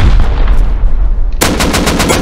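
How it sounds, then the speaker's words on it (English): Automated turrets in a raid-defense survival shooter fire in a loud, dense burst of rapid gunfire that kicks in partway through, over steady rumbling game noise. "Turrets are going off."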